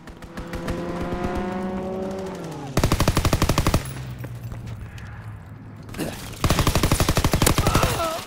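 A strafing run rips through a Call of Duty WW2 match as two loud, rapid bursts of machine-gun fire, each lasting about a second, stand out over ongoing engine rumble and battlefield noise.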